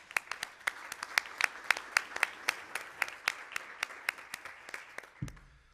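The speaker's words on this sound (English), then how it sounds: "can we please get a round of applause for these people?" A crowd at a school governing board meeting gives applause for the Helios scholars, brisk, fairly even clapping that carries steadily for about five seconds before stopping abruptly with a thump.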